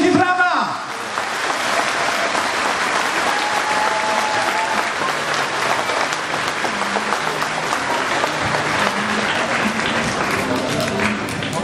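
Loud, sustained crowd applause at an outdoor Kashubian Unity Day festival in Bojano, thick clapping rolling on for several seconds, with a short shout near the start and faint voices underneath.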